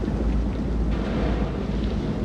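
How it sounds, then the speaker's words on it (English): Video game thunderstorm aboard a boat in Man of Medan: a loud, dense rumble of thunder with heavy rain and wind roaring continuously, no voices heard. "Find out how long the storm is gonna last."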